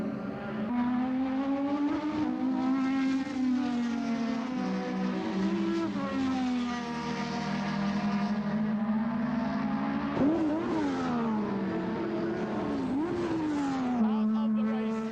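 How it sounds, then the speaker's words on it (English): Formula One cars race at the British Grand Prix at Silverstone, a sustained high engine whine rising and falling through gear changes with a dense roar beneath, fairly steady and loud across the whole stretch. "Nicky Rosberg chasing Ayrton Senna, and a very fast and fierce pace being set in the early part of this Marlborough British Grand Prix"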